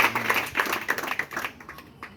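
A church congregation clapping in acclaim of the Holy Spirit at a prophetic service, a brisk burst of rhythmic hand claps that thins and fades toward the end.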